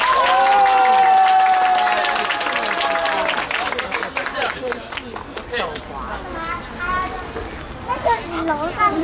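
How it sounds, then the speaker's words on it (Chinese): An outdoor crowd at a crystal ball juggling show during a Lunar New Year traditional arts festival in Taichung claps and cheers, with children's voices and chatter mixed in and a voice speaking over the noise. "可以再给我个最热烈的掌声以及鼓掌吗？"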